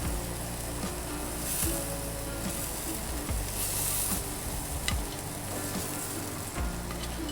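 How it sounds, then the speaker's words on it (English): Turkey burgers topped with cheese sizzle steadily on a grill, a continuous dense hiss with faint pops and crackles throughout, no voices. "You'll grill for about 6 minutes per side or until the internal temperature is 165."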